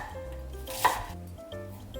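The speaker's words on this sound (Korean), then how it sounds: "먼저 야채를 잘게 잘라줍니다" A knife chops vegetables such as mushrooms, onion and carrot on a cutting board for squid kimchi risotto, giving one clear, close chop amid quiet kitchen background.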